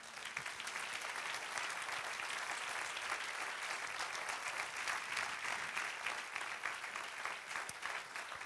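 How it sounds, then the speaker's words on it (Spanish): Congregation clapping inside a church during a sermon, a dense steady wash of many hands that holds at an even level throughout without any voices. "Dale un aplauso al Señor."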